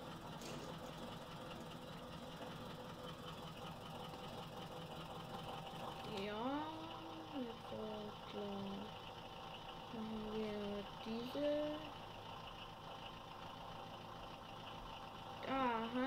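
A Unimog 411 engine runs in Landwirtschafts-Simulator 19, a steady mechanical drone throughout with someone speaking over it.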